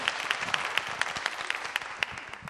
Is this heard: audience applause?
yes